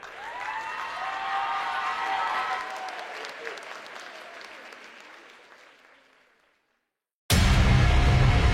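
A crowd at the Swiss Fantasy Show 2018 cosplay contest claps and cheers for a contestant, with voices mixed in. The applause peaks and tapers into silence before a loud burst of music cuts in.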